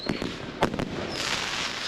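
Brothers Ultimate Battle of Colours fireworks at a Liverpool display, a quick series of sharp bangs and cracks followed by a sustained crackling hiss, heard from a middle distance with no voices.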